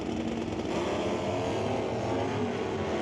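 Super Stock drag race cars at an NHRA Northwest National Open Series event, a BC-based GS and an AB-based Camaro, launching side by side: a loud, sustained engine roar that holds steady and close throughout with no voices.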